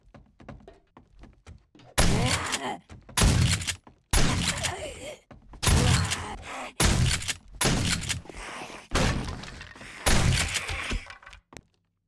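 Shotgun blasts of buckshot in the survival game 7 Days to Die: about eight heavy, booming shots fired roughly a second apart, loud and close, after a quiet start.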